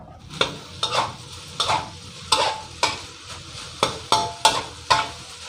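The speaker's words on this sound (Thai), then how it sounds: "ดังนั้นผัด ยาวๆเลยครับ ผัดให้เม็ดข้าวดีเม็ดข้าวเด้งเลยครับ" Rice tossed with chili shrimp-paste dip and flaked mackerel in a hot pan, with a rhythmic series of scraping stir strokes over a soft sizzle, roughly ten strokes, close and loud with no talking.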